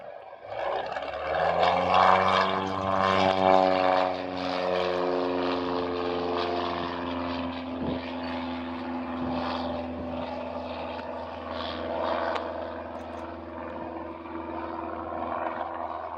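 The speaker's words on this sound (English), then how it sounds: "This is how planes pick up banners." A propeller airplane flies low to snatch an advertising banner, its engine drone loud and steady throughout, rising in pitch as it passes near, with no talk.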